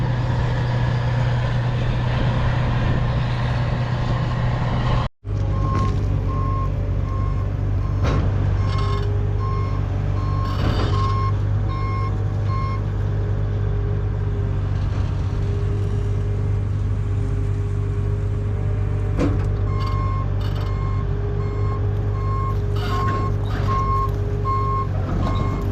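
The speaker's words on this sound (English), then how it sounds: "And there goes the dump truck up the road." A dump truck drives up a road by a soybean field, its engine a constant low, heavy drone with reversing beeps repeating in steady pulses over it, loud and close throughout, no talking.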